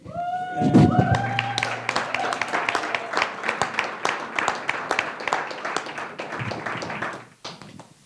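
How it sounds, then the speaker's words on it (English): Audience applause at an Afro Berlin lecture event, a dense steady patter of many hands clapping for several seconds that tapers off near the end, with a brief voice at the start. "kindly give Prudence a big applause"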